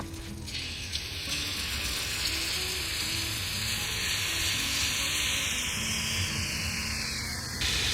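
Shrimp cooking on a grill at low to medium-low heat gives off a steady, close sizzle that holds evenly throughout, with a faint high tone gliding slowly downward over it.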